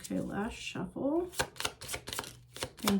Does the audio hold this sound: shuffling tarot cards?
yes